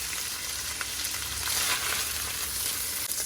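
Carne asada meat frying in hot oil, a steady loud sizzle with constant popping and crackling spatter throughout, close up and without voices.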